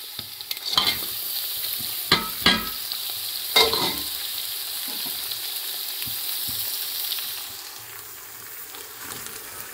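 Carrots, peas, turnip and spring onion greens being stirred into meat frying in a pot in a rural kitchen in northern Pakistan, a steady sizzle broken by several sharp scraping stirs.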